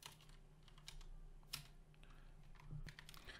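Keys clack on a computer keyboard while a command is entered into a terminal, a steady run of soft, close taps with a few louder strokes, no voices.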